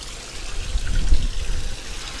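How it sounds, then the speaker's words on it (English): A garden feature pond with a water feature gives off a steady trickling, splashing flow, moderately close and alone, swelling slightly in the middle. "this lovely feature pond with a water feature as well"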